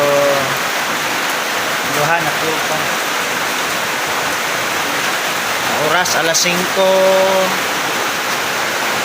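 Heavy typhoon rain pours steadily on a house during Typhoon Odette, a continuous dense hiss with brief louder bursts, while a person talks over it.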